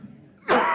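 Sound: cough

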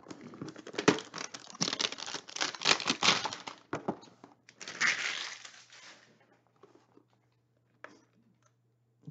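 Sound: crinkling plastic packing material of Panini Elite football card boxes

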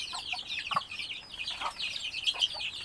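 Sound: chickens clucking

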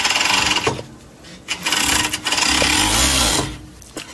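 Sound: sewing machine stitching fabric

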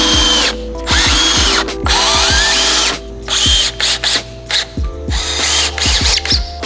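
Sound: power drill driving screws into wood

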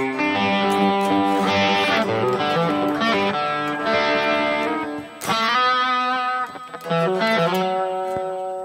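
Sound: electric guitar with light crunch amp tone

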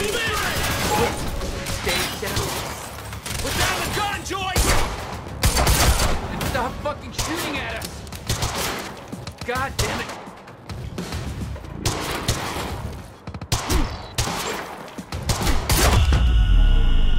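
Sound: gunfire in video game Quantum Break

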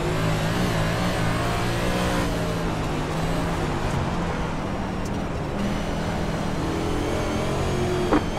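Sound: NASCAR race car engines on Bristol dirt track, from video game

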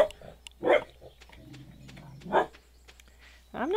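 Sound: dog barking

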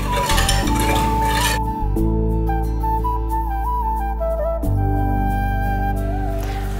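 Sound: stirring milk in a pot for Ambalapuzha pal payasam

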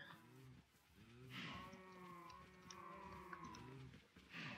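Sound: cows mooing in the video game Minecraft

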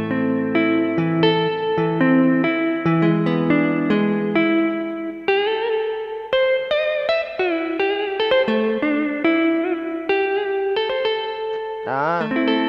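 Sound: electronic keyboard guitar voice

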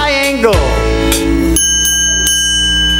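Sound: triangle played by preschool rhythm band

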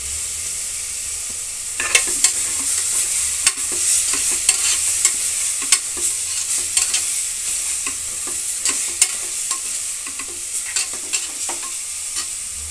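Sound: ground green chilli, coconut and poppy seed masala frying in pan

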